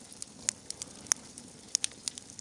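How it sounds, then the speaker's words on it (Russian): A wood campfire burns in a metal grill outdoors in the taiga, giving sparse sharp crackles and pops over a soft steady hiss, close but fairly quiet, with no talking. "Вот такой огонь, как приятно все"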